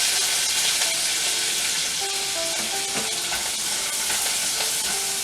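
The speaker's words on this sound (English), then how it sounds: "Just saute it for like 1 to 2 minutes on medium heat" Celery sautéing in a pan on medium heat, steady loud sizzling and hissing with faint crackles and occasional stirring scrapes, no talking.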